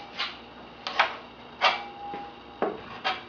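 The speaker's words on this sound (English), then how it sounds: "allow me to come in with a scraper and just take away some of the excess" A hand scraper strokes along a wooden panel's glued joint, lifting excess glue squeeze-out in about six short, separate rasping scrapes, close and fairly quiet.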